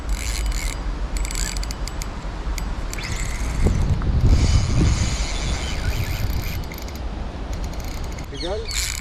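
Pike fishing reel drag clicking in a rapid ratchet rattle during a fight with a large fish, steady and close with outdoor background noise, while people talk over it.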